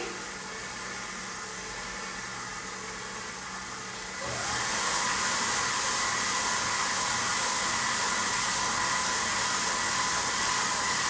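Electric mixer beating chilled, creamy cake batter for a checkerboard cake, a steady whirring drone that starts lower, then jumps louder and brighter about four seconds in and holds constant to the end.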